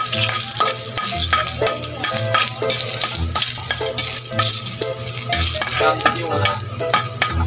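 Garlic fries in oil for spicy crab adobo with a steady, loud sizzle and repeated stirring scrapes throughout, with no voices.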